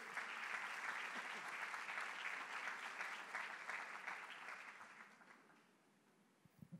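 A church congregation applauds steadily, loud and dense, then the clapping tapers off into a few scattered claps.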